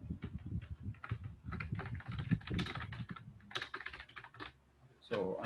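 Computer keyboard being typed on at a steady, fairly quick pace, with close, crisp clicks of varying loudness and a short pause near the end.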